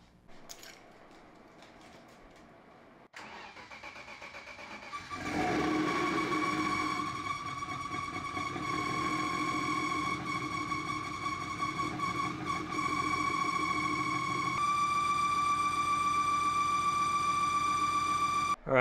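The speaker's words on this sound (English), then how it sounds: "I just disconnected the belt and started the car" Quiet background, then a click and a rising mechanical whir as a rebuilt turbocharged BMW E36 engine starts with its belt disconnected and settles into a steady hum with a whining tone, running on without speech.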